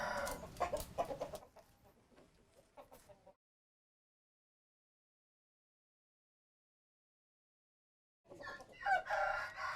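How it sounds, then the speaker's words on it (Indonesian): A young Javanese-Sundanese crossbreed chicken clucks and crows in short bursts close by, then falls silent for several seconds before more clucking returns near the end. "Itu peranakan ayam Jawa Sunda."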